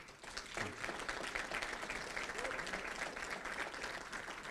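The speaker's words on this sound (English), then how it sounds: "Can we please go ahead and have a round of applause for our parents?" Audience at a Rotary Club career technical awards and scholarships ceremony applauds parents, a soft, steady wash of many hands clapping that holds evenly throughout, somewhat distant in the room.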